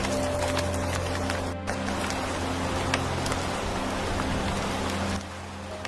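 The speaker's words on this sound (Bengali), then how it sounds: "একদিন রাতে খুব জোরদার বৃষ্টি শুরু হয়ে যায়।" Heavy nighttime rain in a Bengali cartoon, a steady dense hiss of downpour with a low constant hum beneath, continuous throughout and briefly dipping near the end.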